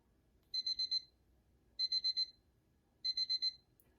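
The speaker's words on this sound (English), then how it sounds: "you can hear the headphones beeping" QCY T18 MeloBuds earbuds beep in find-headset mode: three bursts of four quick, high electronic beeps, evenly spaced and fairly faint against a quiet background.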